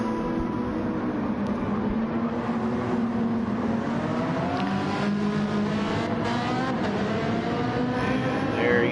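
A race car engine in a sim racing game at Suzuka, a steady, sustained drone with slowly shifting pitch as the car holds speed, loud and continuous with no talk.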